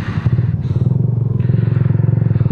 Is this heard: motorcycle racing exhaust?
yes